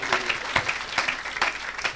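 A church congregation applauding, a dense, close burst of many hands clapping steadily for a couple of seconds, with no voices over it.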